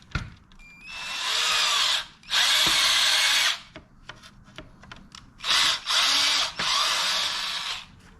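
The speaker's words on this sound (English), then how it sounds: "I'm just starting the screws." A cordless power drill starting screws into a smoked Harley-Davidson CVO tail light, in five close, loud whirring bursts of one to two seconds each, separated by short pauses with light handling noises.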